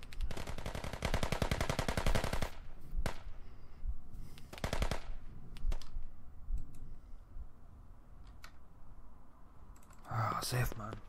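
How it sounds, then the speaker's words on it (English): Gunfire in the video game Squad: long rapid automatic bursts, then shorter bursts and scattered single shots, loud and close, with a sharp burst near the end. "I've got terrible shooting with that gun"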